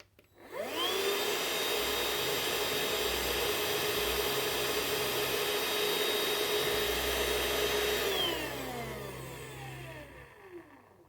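A Parkside Me PMSSA 8 A1 cordless vacuum cleaner spins up and runs at a steady, loud high-pitched whine for several seconds, then winds down as it is switched off.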